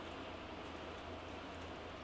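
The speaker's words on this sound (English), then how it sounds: "Just lots of rain and wind." Steady broadband rain with wind during a severe thunderstorm warning, a constant hiss at moderate level with no distinct drops, thunder or voices.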